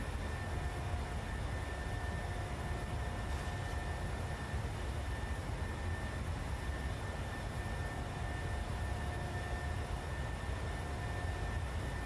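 Steady jet engine roar from a PMDG 737 climbing through a left turn in Microsoft Flight Simulator, a constant broadband rumble with faint high tones that holds evenly throughout, no voices.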